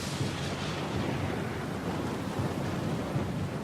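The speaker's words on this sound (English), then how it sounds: "Lost and alone in the storm?" A thunderstorm at sea in Pillars of Eternity 2, a steady loud roar of wind, rain and surf with a deep rumbling undertone, no voices.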